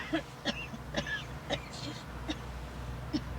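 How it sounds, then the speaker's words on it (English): Several short, rough coughs or throat-clearing bursts come at irregular intervals, fairly close and moderately loud, with no talking. "You ought to have someone listen to that cough."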